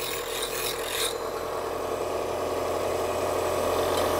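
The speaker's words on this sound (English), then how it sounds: "I'm putting more pressure this way than I am pushing the blade into the stone." A knife blade is sharpened against a spinning grinding wheel with light pressure, a continuous rasping grind over a steady motor hum, with a brighter scraping burst in the first second, close and without talk.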